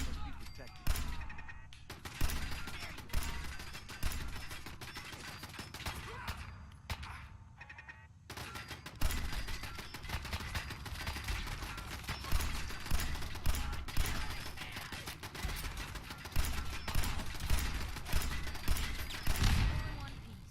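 Shotgun fire in Fallout 4 survival mode rings out in repeated loud blasts at irregular intervals, with brief quiet gaps and a voice speaking intermittently between shots.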